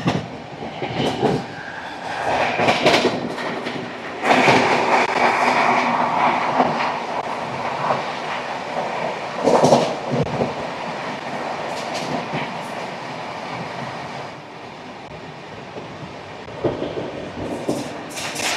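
A train running non-stop from Delhi at about 127 km/h: a steady rolling rumble and rushing wind with rhythmic clickety-clack of wheels over rail joints, occasional sharp bursts and surges, heard from inside the moving train.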